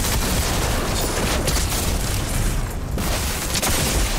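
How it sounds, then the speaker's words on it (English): Rapid shotgun blasts in Fortnite gameplay pound almost without a break, a dense, loud barrage of booming gunfire that runs through the whole stretch with no voices. "that shotgun's a little overpowered"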